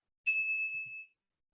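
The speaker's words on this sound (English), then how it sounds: "my one tool that I would never enter Masterclass without, I want to share that, is my bell." A teacher's hand bell in a kindergarten classroom gives one bright, clear ding up close. The tone rings out evenly for almost a second, then stops.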